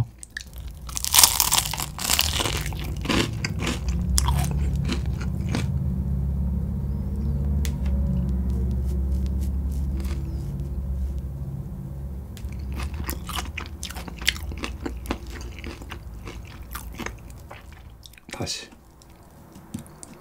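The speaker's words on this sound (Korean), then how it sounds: "겉보리 소금 먼저 먹어보겠습니다" Close, loud crunching and chewing of crispy Kyochon rice-coated fried chicken dipped in barley salt, with sharp bites and a low steady rumble throughout; a voice speaks in places.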